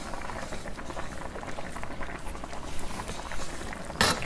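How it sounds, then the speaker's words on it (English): A thick mango fudge mixture cooks and bubbles on the stove with soft, irregular pops and gurgles under a low hiss, and a sudden scraping clatter of stirring comes near the end. "You want to stir this mixture really well."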